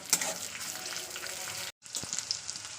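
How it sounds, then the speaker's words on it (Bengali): Chopped onion frying in oil in a home kitchen, a steady close sizzle and crackle with a brief dropout and occasional stirring clicks. "পেঁয়াজটাকে আমি একটু লাল লাল করে ভেজে নেবো"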